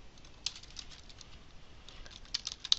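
Typing on a computer keyboard to enter a chart title in Excel, heard as light, scattered key clicks over a soft background hiss, with a small cluster of taps near the end.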